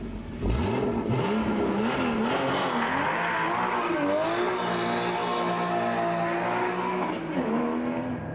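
A 385-horsepower car engine with 420 Nm of torque on the Portimão racetrack in Portugal, revving loudly and steadily with rising and falling pitch through gear changes, close and continuous.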